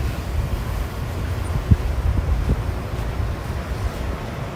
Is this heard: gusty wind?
yes